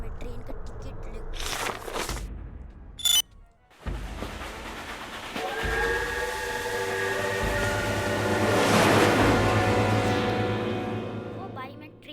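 A train in the video game Death Park 2 rumbles and rises to a sustained horn-like tone over several seconds, loud and mixed with game sounds after a brief interruption near the start.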